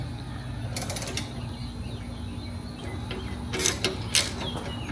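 A ratchet tightening a 13 millimeter nut on an exhaust hanger of a BMW G80 M3 makes quiet bursts of fast clicking, one near the start and a couple near the end, over low garage hum.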